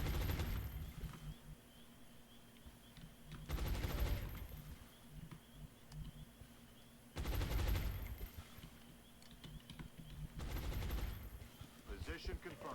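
Suppression machine gun fire rattles in the XCOM Long War video game in three heavy, sustained bursts of automatic fire spaced a few seconds apart, loud and close, over background game ambience.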